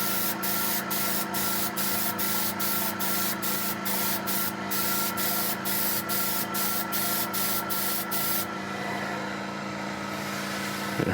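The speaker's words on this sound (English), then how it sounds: "We want to adjust it to where it's a fine mist, not spraying any big globs" Spray paint mists onto glass in thin, even coats in short, regular bursts, roughly a dozen quick hisses over a steady background hum, loud and close, then a smoother stretch toward the end.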